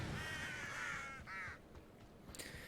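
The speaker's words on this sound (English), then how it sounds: "somehow the crows make it creepier." Crows caw in the video game Hogwarts Legacy, two rasping calls close together and then a third harsher one, faint over a low ambient rumble.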